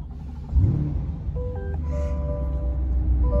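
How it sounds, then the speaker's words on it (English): A 2021 Chevrolet Corvette 2LT engine turns over and catches with a sudden low burst, then settles into a steady, deep idle rumble close by, with a few faint electronic chimes sounding over it. "Go ahead and fire it up here."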